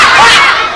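A loud crowd of Robin Hood's Merry Men raises a rousing battle cry, many voices shouting together in one sustained, close roar that barely dips before fading slightly at the end.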